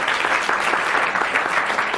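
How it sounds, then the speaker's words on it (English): Dense, steady applause from a summit crowd after a presentation fills the whole clip, loud and continuous without pause. "A huge round of applause, please, for Julia."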